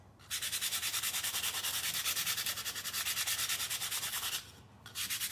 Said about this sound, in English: So now if I just want to create something that it looks like it was imprinted on my surface and not stenciled, I can just sand a bit.